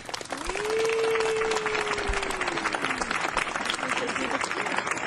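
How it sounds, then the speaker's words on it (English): Continuous applause from an audience fills the space, steady and loud, with a long sliding tone rising and fading over it near the start. "Big applause."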